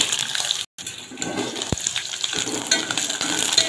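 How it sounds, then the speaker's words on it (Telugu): Green chillies frying in hot oil give a loud, close sputtering sizzle with a brief gap and a sharp pop partway through. "పచ్చిమిర్చి మంచిగా బ్రౌన్ కలర్ వచ్చే వరకు వేయించాలి"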